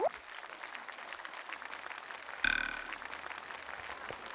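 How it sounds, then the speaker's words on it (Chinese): Audience applause at a New Year concert as a symphony orchestra's music director is welcomed on stage: steady clapping throughout, swelling into a louder burst about midway, then easing back to a dense, even patter. "掌声有请上海古凡交响乐团音乐总监 戴自凡老师。"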